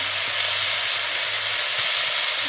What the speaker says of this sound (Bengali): এটাও আমি ভালোভাবে একটু নাড়াচাড়া করে ভেজে নেবো।